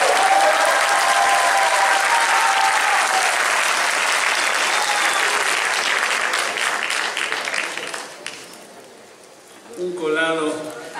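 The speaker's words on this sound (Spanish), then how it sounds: "El aplauso en la batería a Brandon, por favor." Audience at a Beatles tribute show claps steadily, dense close applause filling most of the clip before tapering off, followed by someone speaking over the sound system.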